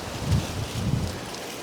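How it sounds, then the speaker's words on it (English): Strong outdoor wind buffets the microphone with a steady low rumble and gusty surges throughout, and no voices are heard. "Oh, that wind is absolutely crazy today."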